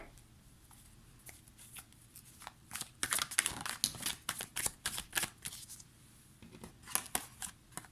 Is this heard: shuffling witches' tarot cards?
yes